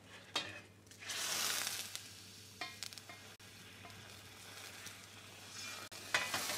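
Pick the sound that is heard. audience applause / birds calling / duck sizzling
duck sizzling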